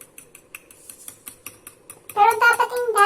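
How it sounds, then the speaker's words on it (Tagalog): A utensil clinks and scrapes against a bowl while stirring a chicken strip mixture with pepper, starting with light intermittent taps and growing into louder, continuous clattering. "Haluin ng haluin hanggang mahilo."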